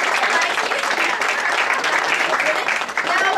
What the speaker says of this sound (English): Now clap like a fifth grade play.